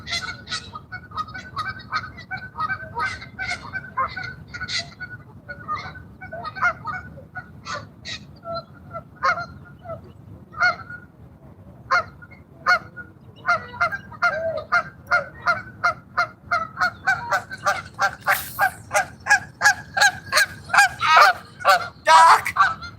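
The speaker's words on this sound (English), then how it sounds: "Goose!" A flock of geese flying low overhead, honking in a steady stream of repeated calls that grow denser and louder toward the end, over faint background rumble.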